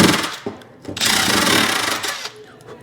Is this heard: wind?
no